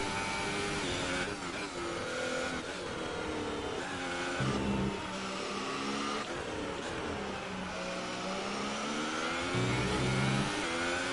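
Formula 1 car engine in a racing game at the French Grand Prix, a high revving whine sweeping up and down through gearshifts and corners, continuous and close with no voices.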